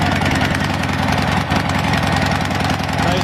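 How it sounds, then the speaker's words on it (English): A vintage Harley-Davidson Roadster motorcycle engine runs through its mufflers, a steady low throbbing idle with a rough, pulsing exhaust note, loud and close for the whole stretch. "Nice Harley mufflers."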